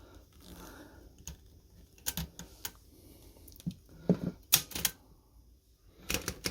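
A 104-year-old Corona 3 typewriter mechanism is worked by hand, giving sparse, sharp mechanical clacks and clicks in small clusters with quiet gaps between them, close and dry.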